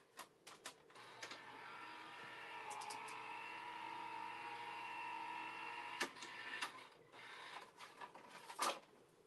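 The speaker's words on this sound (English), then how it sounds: "my embossing um, machine is just to the left here. So I'm just going to go ahead and do that." An embossing machine presses a 3D embossing folder sandwich for card crafting, giving a fairly quiet steady grinding, rolling drone for several seconds, framed by sharp clicks and knocks at the start and end.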